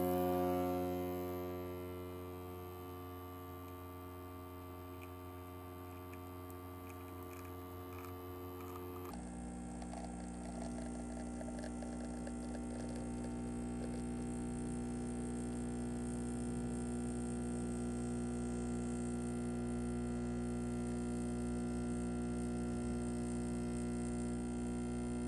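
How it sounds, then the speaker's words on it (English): An espresso machine pulling a shot gives a steady electric hum and buzz throughout. The tone shifts partway through and then runs on evenly and fairly faint, with no voices. "we're going to pull the shot"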